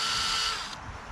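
A power tool spinning a wire bristle brush against a carburetor part from a Kohler XT675 engine on a Toro Recycler mower gives a close, steady high whirring buzz that winds down after under a second.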